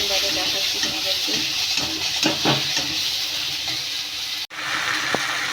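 Potatoes frying in spiced oil for a fish curry give a close, loud sizzle, with stirring scrapes and clinks of a utensil on the pan, and a brief dropout near the end.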